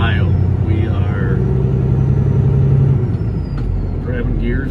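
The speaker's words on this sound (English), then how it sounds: "grabbing gears in the truck stop." A semi truck idles and rumbles up close in a truck stop in Jeffersonville, Ohio as gears are grabbed, a low heavy engine drone with short hissing and whining bursts, while someone talks over it.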